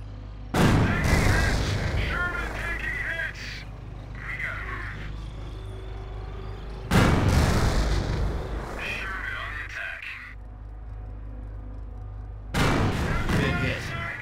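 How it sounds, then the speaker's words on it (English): Heavy cannon and artillery blasts from a Panzer tank in the Company of Heroes strategy game, three loud booming bursts spaced several seconds apart, each trailing into rumbling battle noise with faint background music. "That shot from the Panzer scored a critical hit and has immobilized your tank."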